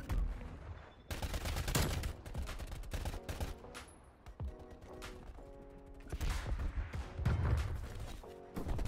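Video game EM2 SMG fired on full automatic: rapid bursts of close, loud gunshots come in several strings, separated by short pauses with mechanical clicks and handling sounds.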